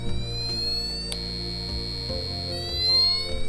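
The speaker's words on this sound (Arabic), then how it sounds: "منلاحظ صوت التنبيه." An Arduino buzzer in a homemade police alarm circuit sounds loud, steady electronic alert tones that shift pitch in abrupt steps over a few seconds, with no voices.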